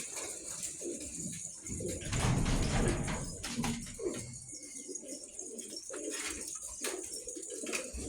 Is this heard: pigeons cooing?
yes